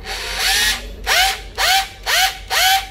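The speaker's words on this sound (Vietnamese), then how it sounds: "Rồi xuống chế độ khoan thường" A Makita 14.4V cordless drill in normal drilling mode, no hammer action, whirs up in five short bursts with rising and falling pitch, each spin-up followed by a quick wind-down, close and fairly loud.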